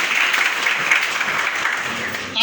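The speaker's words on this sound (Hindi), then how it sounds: "एक बार जबरदस्त ताली अपने लिए बजा दीजिए" Sustained applause from a large audience at an RCM business gathering, steady and dense throughout, with a brief quieter tail at the end.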